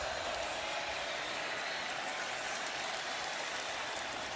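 Home crowd of Oklahoma Sooners fans at a college football stadium cheering against Tennessee, a steady, dense roar of voices and applause that holds loud and unbroken throughout, with no clear pauses.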